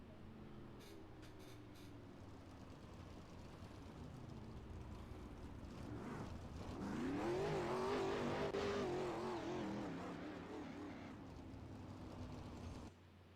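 Race cars circling a dirt track at Lanier Speedway, a distant engine drone that rises into a louder revving pass midway before fading back, with no talk over it.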